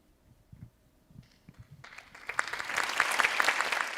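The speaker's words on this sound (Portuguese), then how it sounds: "A plateia aplaude a fala de Márcia." An audience at a Sesc talk show breaks into applause after Márcia Kambeba's speech, with quiet scattered sounds at first and then dense clapping that swells and holds loud for the last two seconds.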